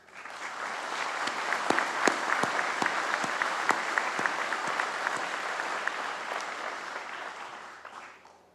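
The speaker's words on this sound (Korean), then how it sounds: "경찰 여러분의 헌신에 격려의 박수를 보냅니다." Applause from the audience at a Police Day ceremony, a broad, sustained crowd clapping with a few sharp nearby claps standing out, holding steady for several seconds before tapering off.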